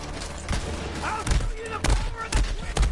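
Shotgun blasts in Borderlands 3 combat, several sharp booming shots at irregular intervals over game background noise.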